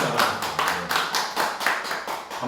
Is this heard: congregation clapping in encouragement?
yes